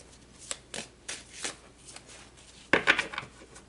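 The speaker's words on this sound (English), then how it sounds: "let me shuffle the tea leaves here, and we will go deeper into each one of these tarot cards." A deck of tarot cards being shuffled by hand, with a string of soft riffling bursts and a louder, fuller flurry near the end, close up and quiet with no talking.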